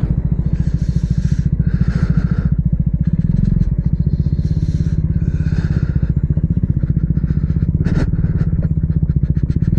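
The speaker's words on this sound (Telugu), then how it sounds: "మనం బైక్ ఇక్కడ నుంచి ఈ గ్యాప్లో కొట్టేసేయాలి" A motorcycle engine putters steadily at close range throughout, its rhythmic throb rising slightly as the bike rides on through Kokapet, Hyderabad, with occasional rattles.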